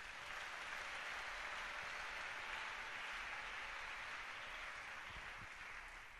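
A church congregation applauds steadily for several seconds, a dense, even wash of clapping from many hands, fairly distant and moderate in level.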